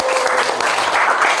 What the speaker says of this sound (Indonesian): Tepuk tangan untuk Dava dan Bari.